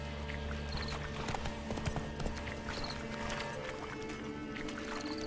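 Roach, the horse in The Witcher 3, trots with a steady clip-clop of hooves, moderately loud and continuous over an ambient outdoor bed of game sound.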